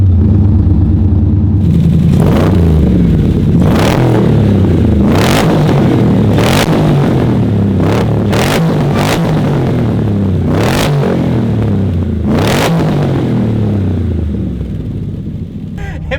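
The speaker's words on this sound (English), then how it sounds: "Check out the sound of this car." A 1960s Corvette race car with a recreated exhaust note revs loudly and repeatedly, deep burbling idle broken by sharp throttle blips, close and continuous with no talk.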